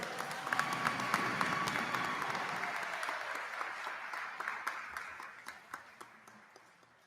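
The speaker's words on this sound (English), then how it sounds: "Let's all give a hearty round of applause for all of these distinguished graduates." A commencement audience applauds its graduates, a full hall of clapping that starts loud with a few cheers and gradually thins to scattered claps as it dies away.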